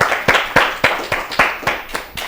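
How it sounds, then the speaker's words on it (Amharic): An audience at a children's televised quiz competition claps for a contestant, about nine sharp, evenly spaced claps that fade slightly toward the end, close and loud. "አጨብጭቡለት፣ በደንብ አጨብጭቡለት።"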